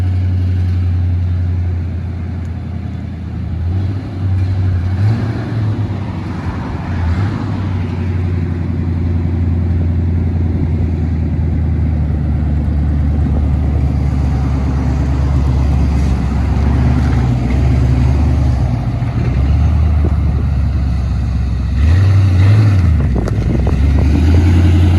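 A Ford Mustang with its exhaust cut off drives and revs, a loud, raw low engine drone throughout with several sharp throttle blips, no talking.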